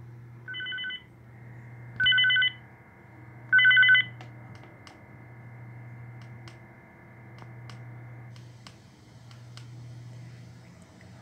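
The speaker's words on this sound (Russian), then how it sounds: "будет вызван сигнал тревоги на пульт охраны" A DMR digital radio set up for telemetry answers a motion sensor's alarm trigger with three short electronic tone bursts, each a little longer, over a steady low hum and faint scattered clicks.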